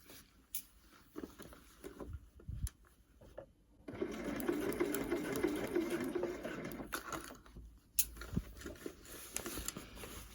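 Sewing machine slowly stitching a flat sleeve into fabric, running in short bursts with pauses, then a steadier longer run of stitching near and clear.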